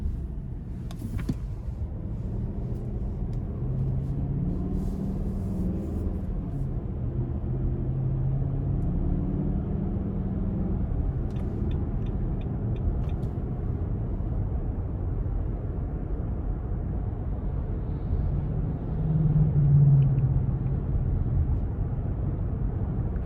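Steady low road rumble and hum inside the cabin of a 2022 Nissan Armada SL cruising down the road, quiet and even throughout with a few faint clicks and no talking.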